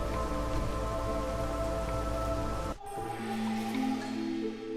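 Steady rain patters and hisses in the Against the Storm city-builder video game, a dense continuous wash that drops abruptly partway through to a lighter drizzle with a low tonal hum beneath.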